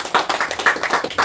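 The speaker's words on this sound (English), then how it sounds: "And hand claps." A quick run of sharp hand claps, about eight in a steady rhythm, close and fairly loud.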